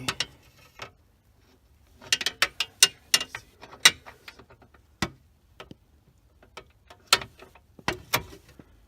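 A ratchet with extensions snugs 10mm bolts beneath the steering column of a 2000-2005 Chevrolet Impala, giving bursts of quick mechanical clicks in several separate runs, close and fairly crisp, with no talking.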